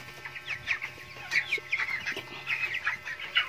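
Forty-five-day-old broiler chickens on a farm cluck and chatter in overlapping, uneven bursts, a moderately faint flock sound with no talking.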